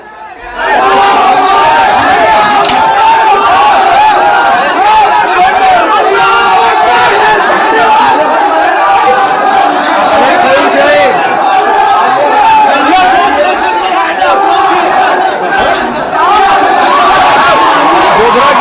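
Agitated crowd massed at a police station after an inflammatory post, a loud continuous roar of shouting voices and chanting, close and unbroken throughout.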